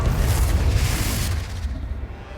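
A Confringo blasting spell explodes in the video game Hogwarts Legacy, a loud, dense, rumbling boom that hangs on for about a second before fading into a softer tail.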